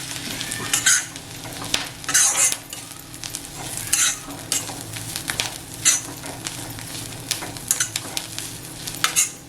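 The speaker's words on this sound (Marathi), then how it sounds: "खोबरं पण असं लालसर होईपर्यंत थोडं परतवून घ्यायचं" Grated coconut roasting in a pan for a chicken masala, stirred with a utensil in repeated scraping bursts over a soft, steady sizzle, close and alone without talk.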